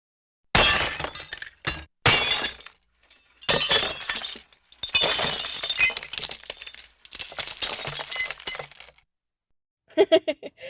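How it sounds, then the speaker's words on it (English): Repeated crashes of thrown plates and glasses breaking, several bursts of loud shattering and clinking in quick succession with brief pauses between, no voices. "That's the sound of plates and glasses being thrown over"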